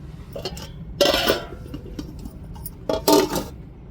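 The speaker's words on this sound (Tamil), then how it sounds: "இப்போ வந்து நம்ம ஒரு தட்டை வச்சு மூடிடுவோங்க" A plate is set over a pot of half-cooked vegetables seasoned with coconut sambar powder and salt, giving two close, sharp clattering clinks a couple of seconds apart against a quiet kitchen background.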